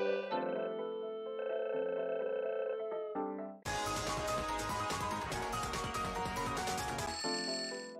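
Electronic dial-type tone from a phone booth in the video game Touhou Luna Nights, sustained steady tones that shift pitch, then a dense bright burst of game sound before the tone returns, loud and without talk.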